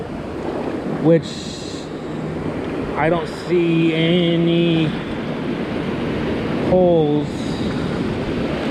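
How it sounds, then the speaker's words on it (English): Ocean surf rolls in a steady broad wash on a beach while surf fishing, with breakers far off; someone talks over it and wind buffets the microphone. "So the waves are breaking way far on this side of the beach"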